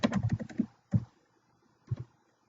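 Light keystrokes on a computer keyboard while a bulleted list is typed in Microsoft Office: a quick cluster of close taps, then two single isolated taps after pauses, fairly faint in a quiet room.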